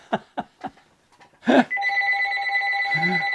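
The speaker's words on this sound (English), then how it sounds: "The phone's ringing." A telephone rings indoors, a steady loud electronic ring tone that starts after a few brief knocks and a short voice and continues without break to the end.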